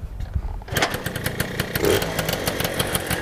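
A Tomos moped engine starts and settles into a rapid, loud two-stroke idle, running a little low and uneven, close by with a steady buzzing putter.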